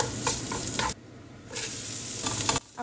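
Spinach is stir-fried with salted egg yolk and garlic in a pan, giving close, loud sizzling and scraping stir strokes. A short quiet gap breaks the sound before the frying resumes, with no voices.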